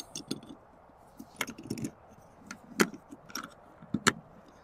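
Roof of a 2023 Aliner Classic camper trailer pulled down with a wind lift assist, a series of sharp metallic clicks and clunks with soft rustling between, close and fairly quiet.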